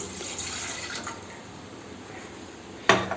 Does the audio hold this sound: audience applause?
no